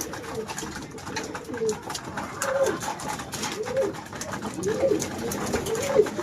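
Young racing pigeons coo repeatedly in soft, rolling calls, several birds close by, over a low background rustle.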